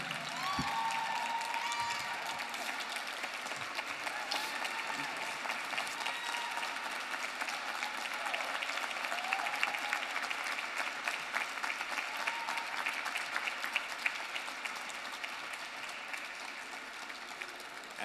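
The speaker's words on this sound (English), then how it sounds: "Absolutely, keep that round of applause going for Trevor." A live audience claps steadily after a music performance, a dense and sustained round of applause that fills the whole stretch at an even, moderately distant level.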